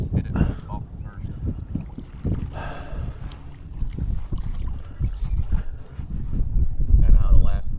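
Wind gusting over open water around a small fishing boat in spring, a loud rumbling buffet on the microphone with lapping and hull knocks beneath, and people talking at moments.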